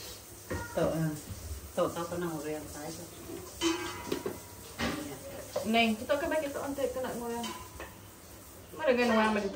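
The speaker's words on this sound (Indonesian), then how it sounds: "Lemak minyak babi kita yang goreng." Frying in pork lard in a home kitchen, soft sizzling and occasional pan or utensil clinks beneath near-constant conversation in Malay.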